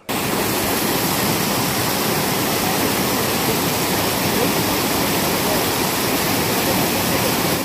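Steady, loud rush of a waterfall and river water at Machli Point in Mainpat, Chhattisgarh, a continuous broadband roar close by with no breaks.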